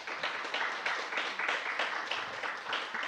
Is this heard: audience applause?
yes